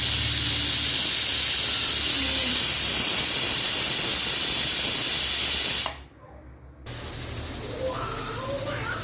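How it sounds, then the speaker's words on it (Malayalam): Pressure cooker with chicken cooking inside, hissing loudly and steadily from its steam vent, then cutting off abruptly before a quieter hiss resumes. "അപ്പോൾ ഏകദേശം 6 വിസിൽ വന്നിട്ടുണ്ട്."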